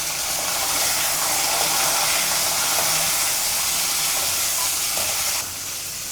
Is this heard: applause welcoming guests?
no